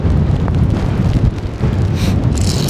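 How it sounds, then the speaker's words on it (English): Heavy rain and wind hit a via ferrata on an exposed mountain route. Gusts buffet the microphone in a loud, constant low rumble, with the rain hissing through it and no voices. "now it is raining badly"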